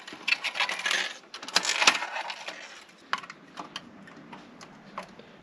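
Plastic strips are pulled off a metallic green 1939 Ford Deluxe Coupe die-cast model car by Maisto, making close, crisp clicks, ticks and rustles in quick uneven bursts that thin out toward the end.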